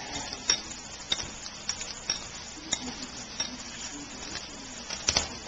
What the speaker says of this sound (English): we're going to add about a third of a radish, and we'll just stir that in and mix that all together